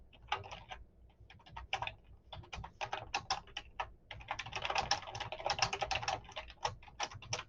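Fast, uneven clatter of a computer keyboard being typed on, quiet and close, with short pauses between bursts of keystrokes and no talking.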